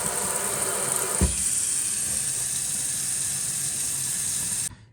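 Water runs and sprays from a leaking Delta kitchen sink spray head, a constant loud hiss with a short bump early on, cutting off abruptly at the end.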